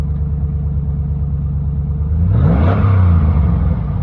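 A pickup truck engine idles with a steady low rumble after sitting unused for about a month, then revs up sharply near the end and holds a louder, rougher roar close by.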